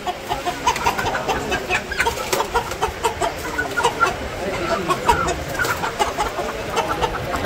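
Chickens at a village market in Bangladesh cluck in short, overlapping bursts over a busy crowd murmur, with occasional voices nearby.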